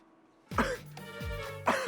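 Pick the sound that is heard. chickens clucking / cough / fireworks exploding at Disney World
cough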